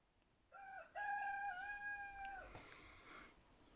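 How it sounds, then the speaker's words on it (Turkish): A rooster crows loudly once, a long drawn-out cock-a-doodle-doo that rises and holds before tapering off, close by with little else around. "Bizim horoz yine başladı."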